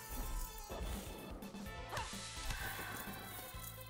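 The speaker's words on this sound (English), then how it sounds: "we bash open a door, like, incorrectly" A dungeon door is bashed open in Dungeons of Dredmor: a loud, dense crashing smash over a busy, continuous game soundscape, with a few sharper impacts through it.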